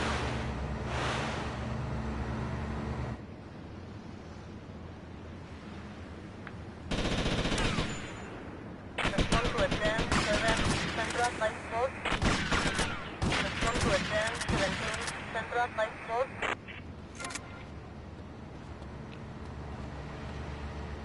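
Gunfire in GTA Vice City on the PS2 rattles in repeated loud bursts of rapid shots, separated by quieter gaps, with vehicle and ambient game sounds running underneath.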